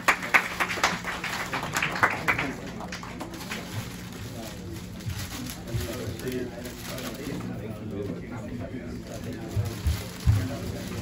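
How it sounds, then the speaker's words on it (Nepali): An audience claps for the vice president of NRN NCC USA at a community welcome event in Maryland. The clapping is strongest in the opening seconds and then fades under voices and room murmur. "ताली बजाइदिनु होला एकचोटि।"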